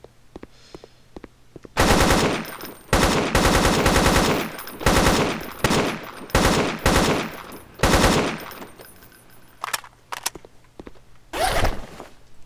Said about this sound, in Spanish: Y la AK-47.